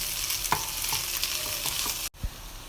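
Boiled prawns being stirred into frying onion gravy: a close, continuous sizzle with repeated scraping strokes of a spoon against the pan and a brief pause near the end.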